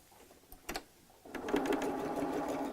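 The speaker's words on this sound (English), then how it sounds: "I'm just sewing across that raw straight edge there" A sewing machine stitches across strips of fabric for fabric roses, starting with a couple of short bursts and then settling into a steady, fast mechanical whir, close and alone.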